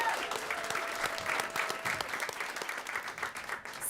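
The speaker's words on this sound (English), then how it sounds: "Give her a round of applause." Audience at a Stop Food Waste Day panel at NYU Steinhardt applauding, a dense, steady burst of clapping from a crowd that lasts a few seconds.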